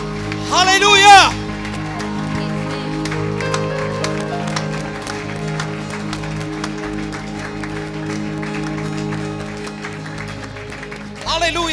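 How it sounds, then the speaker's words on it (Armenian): A church congregation claps steadily over sustained worship music, a busy patter of many hands running throughout, with a voice rising briefly at the start and end. "Եկեք բարձր ծափարենք փառք տալով Տիրոջը"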